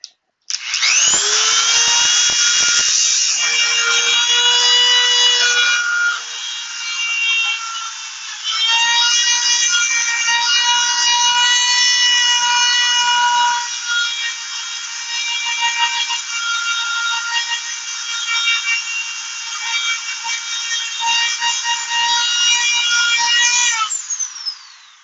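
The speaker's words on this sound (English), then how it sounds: "And the point is to a dremel, always keep it moving. Never sit it." A Dremel rotary tool polishes a gun trigger with a loud, high-pitched whine that holds steady for most of the stretch, dipping briefly as it is moved, with no talking.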